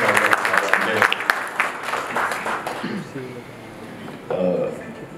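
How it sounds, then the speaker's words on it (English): An audience gives a round of applause for a doctor at a World Alzheimer's Day event in Delhi, loud clapping at first that thins and fades while voices talk over it. "Let us give a big round of applause to"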